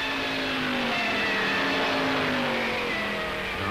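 Supercharged 1930s Grand Prix race cars, a Mercedes and an Alfa Romeo, roar steadily at a loud, close level as their engine pitch rises and falls.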